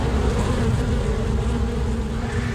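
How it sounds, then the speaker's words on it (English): A dense, steady buzzing of bees hums close and loud throughout, with no pauses or voices. "and you start to hear the bees"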